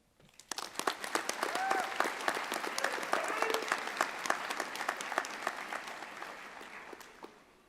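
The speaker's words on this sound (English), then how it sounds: "Please, graduates, join me in giving a round of applause to our families, friends, teachers, and administrators" Audience applause fills a high school commencement ceremony, starting after a brief pause, swelling into a dense, steady crowd clapping, then gradually tapering off toward the end.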